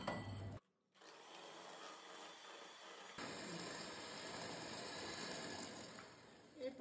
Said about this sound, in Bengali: এরপর আমি চিনি আর সাদা তেল একটু বিট করে নিলাম